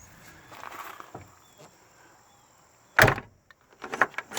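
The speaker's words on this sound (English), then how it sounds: "Let's close this door." A 1966 Pontiac GTO convertible's door swinging shut with one solid slam near the end, preceded by faint creaks and light movement and followed by a few smaller knocks, close by.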